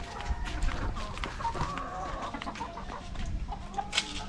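A broodcock rooster clucks repeatedly close by amid farm background noise, with someone talking over the bird sounds.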